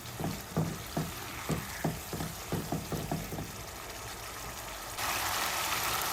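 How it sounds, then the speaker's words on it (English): Masala for masoor dal fries in oil while a spoon stirs it in about a dozen regular scraping strokes. The strokes stop and an even, close, hissing sizzle continues alone. "Now we're gonna cook this until the oil separates."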